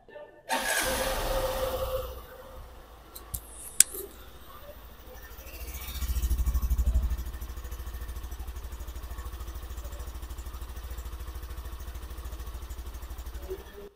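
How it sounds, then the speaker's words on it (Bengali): A Hero Glamour Classic 125 motorcycle idles with a steady low exhaust rumble, swells into a brief throttle rev partway through, then settles back to an even idle close by. "তো এটা হচ্ছে এই বাইকটার এক্সস্ট নোট, তোমরা এখনই যেটা শুনলে।"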